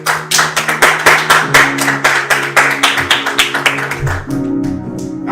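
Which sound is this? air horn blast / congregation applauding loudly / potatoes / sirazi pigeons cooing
congregation applauding loudly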